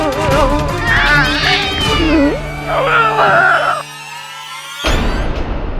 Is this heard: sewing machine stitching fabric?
no